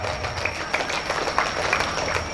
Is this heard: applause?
yes